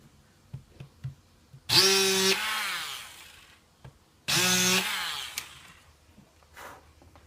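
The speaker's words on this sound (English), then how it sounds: "I'm gonna using this Dremel right here, this round thing, to make this hole deeper" A Dremel rotary tool deepens a hole in a Tamiya Mini 4WD part, with two loud high-pitched whining bursts of about two and a half seconds each. Small clicks and handling noises fill the quiet gaps between them.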